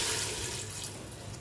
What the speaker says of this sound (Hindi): मैं इसके अंदर 1 गिलास पानी का ऐड करूँगी